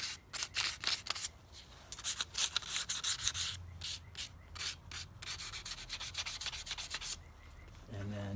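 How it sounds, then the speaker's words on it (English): Dry, scratchy sandpaper rubbing over an oiled wooden quail sculpture at a work table, in quick back-and-forth bursts with short pauses, close and steady throughout. "So I'm going to sand some of it"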